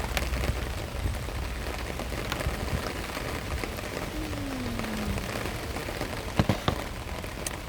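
Rain falls outdoors on a morning in Dubai, a constant soft wash of drops with a few sharper nearby drips and taps.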